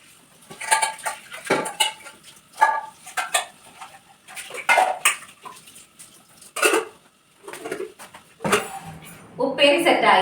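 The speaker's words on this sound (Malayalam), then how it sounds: "അപ്പോഴേക്കും നമുക്ക് ഈ 2 പാത്രങ്ങളൊക്കെ ഇങ്ങനെ കഴുകി വയ്ക്കാം." Two cooking vessels are washed by hand, with close, irregular bursts of metallic clinks, scrapes and clatter separated by short pauses, and a rush of water near the end.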